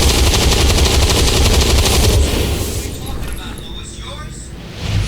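Rapid automatic gunfire from a weapon in XCOM 2, a loud sustained burst for about two seconds that then cuts off, leaving quieter game ambience and faint tones behind.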